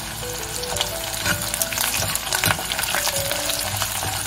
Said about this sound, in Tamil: இப்போ இதில் சாம்பார் வெங்காயம், பூண்டு இதையும் போட்டுடலாம்